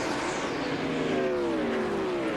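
An ARCA race car roars past during the 2003 Pennsylvania 200. The engine stays loud and continuous, and its pitch bends as the car sweeps by.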